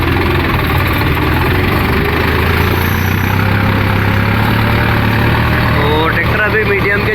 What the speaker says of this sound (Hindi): तो ट्रैक्टर अभी मीडियम के चौथे में चल रहा है, बिल्कुल कोई लोड नहीं है।